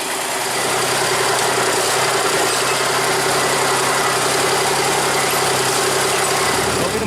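Small diesel locomotive D5 hauls a loaded sugarcane lorry train uphill, giving a steady, loud engine drone with a constant rumble and no pauses throughout.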